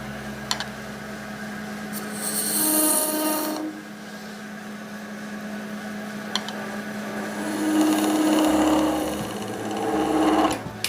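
A skew chisel makes scraping cuts on a spinning epoxy resin blank on a wood lathe, a steady hum with two longer raspy scraping passes and some sharp ticks.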